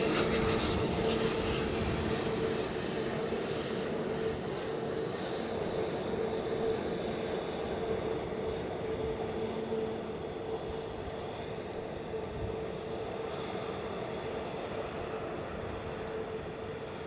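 An EasyJet airliner at Edinburgh Airport gives a steady, moderately loud jet engine rumble and whine that holds throughout and fades a little toward the end, with no talking.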